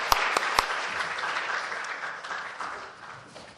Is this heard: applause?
yes